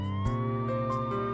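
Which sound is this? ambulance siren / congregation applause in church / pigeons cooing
ambulance siren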